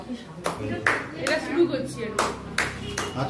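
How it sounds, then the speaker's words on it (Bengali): A family claps hands at a birthday cake cutting, several short bursts of applause spaced through the moment while people talk and cheer over it. "এবার হাততালি দিতে হবে দে হাততালি দে"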